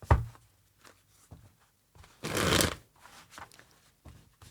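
Tarot cards are shuffled by hand close up, with a few soft riffles and taps, then one louder riffling burst in the middle, quiet and intimate with no talking.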